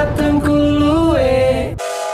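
A toy Thomas train's horn sounds as one sustained, tonal hoot whose pitch bends and wavers for nearly two seconds before cutting off abruptly, loud and close.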